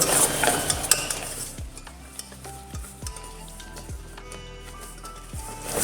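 Egg yolks, sugar, cornflour and a pinch of salt are whisked together in a pot for vanilla pudding, with the whisk scraping and tapping in a steady rhythm. The sound is close up and moderately loud, and no one speaks.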